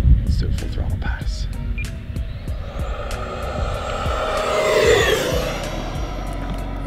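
An E-Flite Viper 90mm electric RC jet makes a full-throttle pass, its ducted-fan whine rising and sweeping past at about the midpoint over a steady hum, with people talking throughout.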